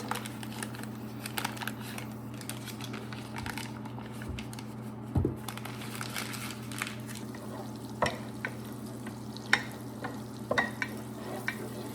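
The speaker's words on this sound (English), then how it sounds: "I'm gonna start with melting 1 stick of butter, which is like half a cup" A stick of butter melts in a pan on the stove, giving a soft continuous sizzle with a few faint clicks and taps, no talking.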